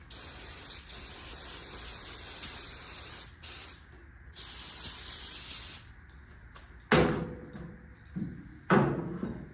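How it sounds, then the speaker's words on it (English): Several bursts of aerosol spray paint on 351 engine parts, hissing steadily for a second or two each, separated by short pauses and light clicks, close and fairly loud. "We'll spray over some dirt, some mud, some grease."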